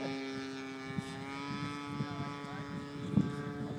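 Nitro engine of a large 120-size RC Vought F4U Corsair WWII model plane running steadily outdoors, a smooth droning buzz with strong tonal harmonics, continuous and moderately loud with a few small knocks.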